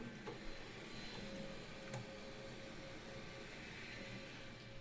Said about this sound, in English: Printer was making some weird noise.